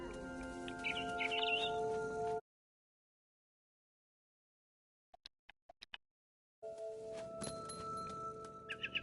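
Barn swallow chirps from the game What Remains of Edith Finch, scattered high tweets in the opening seconds over a droning ambient score, then a few brief isolated chirps in near silence before the music returns with more chirping.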